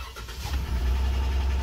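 A Dodge Ram 1500 pickup with a swapped engine cranks and catches, settling into a steady low idle rumble that swells and holds close by.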